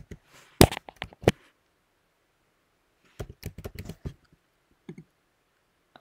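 Keys pressed on a computer keyboard while a password is typed, heard as a few loud separate clacks, then a brief pause and a second quicker burst of lighter taps, ending with a couple of isolated presses in a quiet room.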